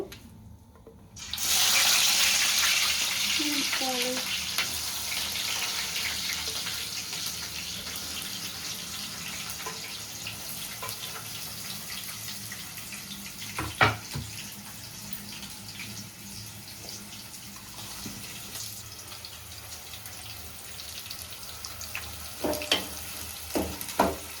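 Tap water runs steadily and loudly into a sink as rice is washed by hand for chicken biryani, with a few brief clatters and knocks near the end and no talk.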